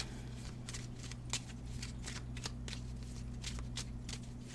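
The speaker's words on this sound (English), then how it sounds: "Wait, why am I shuffling?" A deck of Lenormand cards is shuffled by hand in a steady run of soft, repeated riffling flicks, close by over a low background hum.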